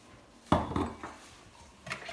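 A spoon stirs pancake batter of soda, kefir and milk in a bowl, with one sharp clink and a few softer scraping knocks against the dish, close and fairly quiet.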